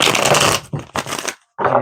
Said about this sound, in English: give it a few little shuffles